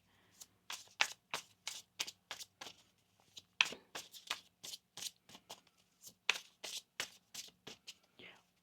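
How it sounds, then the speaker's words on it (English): Tarot cards shuffled by hand in a quiet room, a steady run of soft, crisp riffling bursts about every third of a second, close and fairly quiet, with no talking over them. "One more shuffle here."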